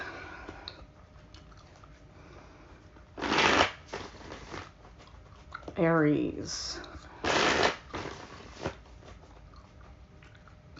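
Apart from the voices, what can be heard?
shuffling tarot cards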